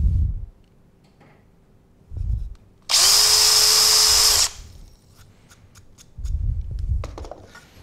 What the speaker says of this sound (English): this kind of lip and spur type drill bit